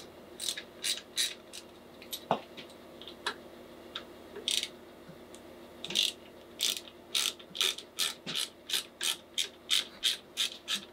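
Ratchet wrench backing off bolts on a Harley-Davidson Iron 883 handlebar during a handlebar swap: bursts of crisp metallic clicking, scattered at first, then a steady run of quick even strokes, close and clear with no talking.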